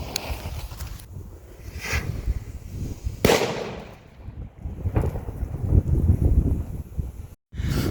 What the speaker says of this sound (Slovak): takže buchlo, spravilo to nejaký takto kráter